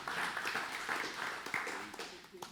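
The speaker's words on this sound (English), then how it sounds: "let's clap for that." Church congregation clapping in a hall, a moderate, fairly even patter of many hands with some voices mixed in.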